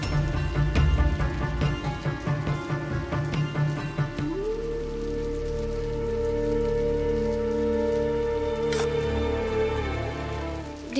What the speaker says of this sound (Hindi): इतनी बारिश में?